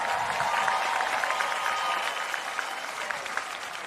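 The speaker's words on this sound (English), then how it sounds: "So families, you give yourselves a round of applause" Families at a university commencement applaud themselves, a broad, sustained crowd clapping that stays loud and even, easing slightly in the second half, with no talk over it.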